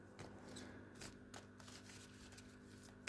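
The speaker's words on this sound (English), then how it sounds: "shuffle them up and down and find what we've got" Playing cards shuffled by hand during a card trick, giving soft repeated riffling and sliding bursts at close range with no talking.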